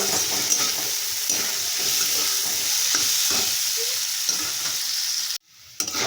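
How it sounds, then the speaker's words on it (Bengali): Masoor lentils with salt and turmeric fry in a pan with a steady, close hiss and crackle, broken by faint scrapes of stirring, before the sizzle cuts off abruptly near the end. "আমি নুন হলুদ দিয়ে দিলাম আর ভালো করে কিন্তু ভেজে নিলাম"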